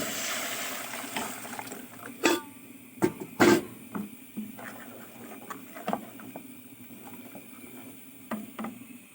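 Hot water poured into a cooking pot for rice soup, a soft liquid patter and splash running steadily with a few louder sloshing bursts near the start, close by with no talking.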